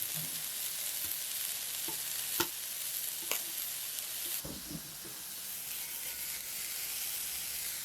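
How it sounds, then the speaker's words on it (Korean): Broccoli pan-searing in a little oil over high heat, a steady bright sizzle with a few sharp clicks and stirring bumps from the pan. "강불에서 살짝만 구움색을 내주면서 빠른 시간 안에 구워내시고요."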